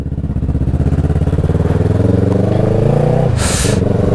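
A motorcycle ridden on the road by a new A2-licence rider, the engine a loud, rhythmic pulsing drone with rising pitch as it accelerates, plus a short burst of wind or hiss near the end.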